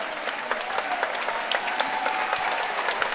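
A basketball crowd at a U17 Canadian national championship game applauds steadily throughout, a dense wash of clapping from a large indoor audience with no pauses.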